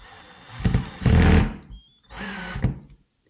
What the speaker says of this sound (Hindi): देखिए कितनी आसानी से और कितना फास्ट स्क्रू को निकाल सकते हैं।